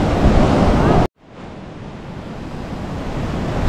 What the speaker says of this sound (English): As you can see, they're pretty big waves.